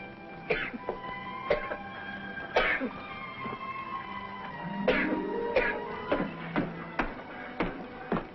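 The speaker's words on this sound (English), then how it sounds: "Something for your cough, no doubt, eh?" A man coughs and clears his throat in an indoor Western scene, several sharp bursts spread over the stretch with shuffling and faint movement between them.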